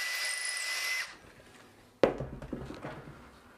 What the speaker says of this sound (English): drilling it out